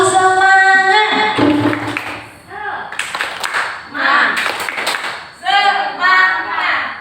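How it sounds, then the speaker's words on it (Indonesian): Teachers doing a rhythmic spirit clap, sharp bursts of group clapping in patterned groups broken up by voices chanting and talking between the rounds. "Tepuk semangat."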